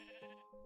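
A single short Minecraft sheep bleat, a wavering nasal call lasting under a second, faint and heard alone.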